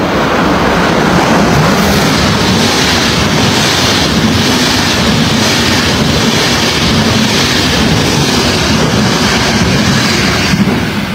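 A passing train makes a loud, continuous rumble and rushing roar that holds steady throughout, mixed with heavy wind buffeting on the microphone.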